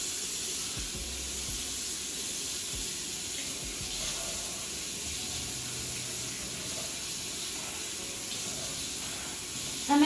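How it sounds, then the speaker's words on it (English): Steady running water rinses shampoo out of 4A-B textured hair, a continuous close hiss and spray that goes on without a break, with faint low splashing underneath. "I'm making sure I get every last of the shampoo out of my hair."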